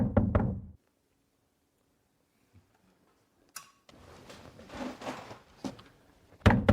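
A fist knocking on a door, a loud burst of blows at the start, then silence, then more knocks and thumps amid muffled commotion, ending with another heavy knock.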